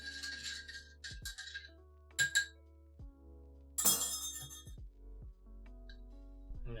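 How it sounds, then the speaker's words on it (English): Salted caramel iced coffee stirred in a glass with ice, giving a string of bright clinks and scrapes, with a few louder knocks, close and alone. "Let's give it a good stir."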